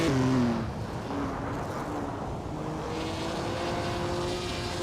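A 1955 Mercedes-Benz 300 SLR race car in a racing video game, a steady engine drone with a sustained tonal whine, moderately loud and alone.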